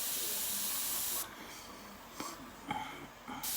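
Paint sprays over a stencil on a portrait study, a steady faint hiss for over a second followed by short bursts of spray with brief gaps, quiet and close.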